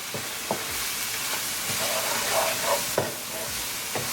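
Spices are stirred into tomatoes in a sizzling pan, with a steady frying hiss and repeated soft scraping strokes of the spoon at an irregular rhythm.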